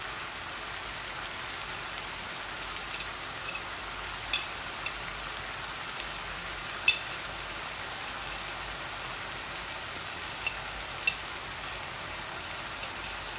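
Chicken frying in a pan while sauce is added, giving a steady, even sizzle close by with a few faint clicks and pops, no voices.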